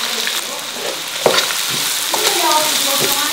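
Scallion, ginger and garlic stir-fried in a pan give a steady close sizzle and crackle, with scraping and clinks of a spatula stirring through it, no talking.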